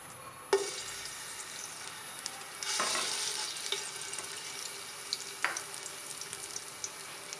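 Ginger garlic paste drops into hot oil in a pot, giving a sudden sizzle followed by a steady, moderately quiet frying hiss with a few brief stirring scrapes, and no talking.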